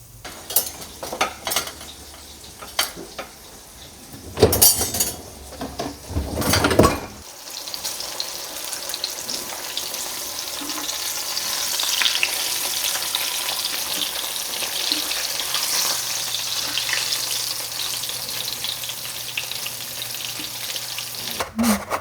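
Flour-dredged pork chops frying in oil in a pan give a steady, close sizzle that fills the stretch, with a few louder clatters and stirring knocks near the start.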